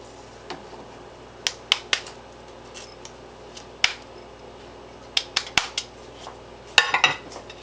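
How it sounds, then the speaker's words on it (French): A spoon stirs tomato and spices for Moroccan harira soup, giving sparse, irregular metallic clinks and taps against a pot, close and fairly quiet. "je mélange le tout"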